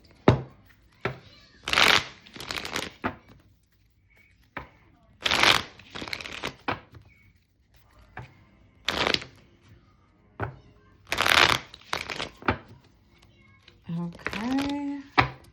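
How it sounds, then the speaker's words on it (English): A tarot deck being shuffled and cut, with bursts of riffling and card slaps recurring at irregular intervals, close and fairly quiet, with a brief meow-like sound near the end. "Okay, cut the deck."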